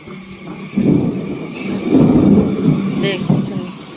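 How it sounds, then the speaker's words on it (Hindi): Deep rolling thunder rumbles in long low swells amid steady monsoon-style rain during a thunderstorm with lightning, with a faint voice and a few bird chirps in the background. "गरज हो रही है बहुत तेज,"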